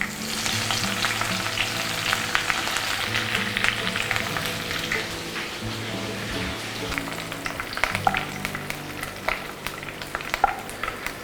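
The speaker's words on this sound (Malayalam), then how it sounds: "വെളിച്ചെണ്ണ നല്ല ചൂടായിട്ടുണ്ട്. അതിലേക്ക് കുറച്ചേറെ കറിവേപ്പില ഇട്ടൊന്ന് ഫ്രൈ ആക്കി എടുക്കാം." A generous handful of curry leaves fries in very hot coconut oil, giving a dense, loud, continuous crackling sizzle with sharp pops scattered throughout, heard up close with no talking.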